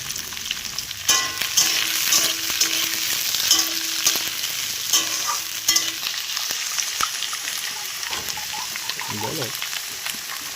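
Capsicum stir-frying in ghee in a pan with beans, a steady soft sizzle broken by repeated clattering bursts of stirring and scraping, close and moderately quiet.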